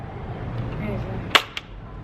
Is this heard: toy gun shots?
yes